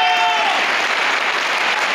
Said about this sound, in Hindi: बढ़िया वाली ताली बजानी चाहिए आप सब लोग